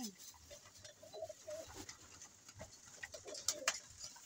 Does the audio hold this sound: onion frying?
no